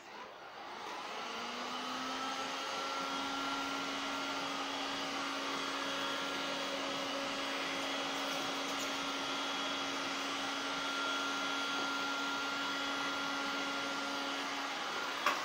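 A heat gun blows steadily while covering film is shrunk onto an aileron. It makes a continuous airy roar with a fixed tonal hum that holds for about fourteen seconds, fairly faint and alone.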